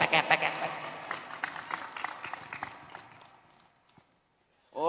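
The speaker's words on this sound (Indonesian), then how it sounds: "Tepuk tangan kok nanggung epek." An audience at a religious talk gives a short burst of scattered clapping that thins out and fades to near silence, then a voice briefly starts up at the end.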